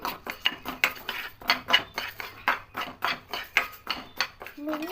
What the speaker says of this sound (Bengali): দিয়ে একটু নাড়াচাড়া করে হালকা করে বিউলির ডালটাকে ভেজে নেব